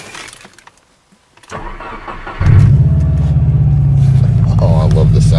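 A 2009 Subaru Impreza WRX engine starts after a quiet pause: a brief starter crank, then the engine catches and settles into a loud, steady, rumbling idle close by.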